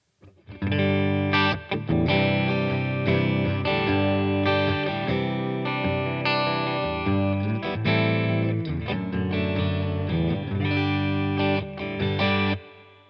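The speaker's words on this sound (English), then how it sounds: "I'm just going to throw on some reverb" Clean electric guitar through a beginner guitar amp, playing continuous chords and melodic lines with a spacious reverb tail, close and steady in level, no voices.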